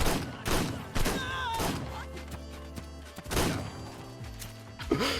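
Gunfire in the video game Ark Survival Ascended, with repeated sharp shots and bursts against a busy in-game background, and players talking over it.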